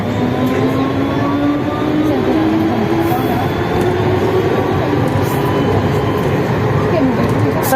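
Siemens VAL 208 NG HP65 metro train running between Borderouge and Ramonville, a loud steady rumble with a rising whine throughout, heard from on board.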